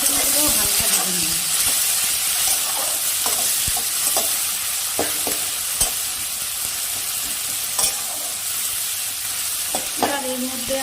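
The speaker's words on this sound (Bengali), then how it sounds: "টমেটো কুচনোগুলো হালকা ভেজে নেব।" Chopped tomatoes frying in hot oil over browned onions for pea ghugni, a steady loud sizzle throughout with occasional scraping stirs of a spatula in the pan.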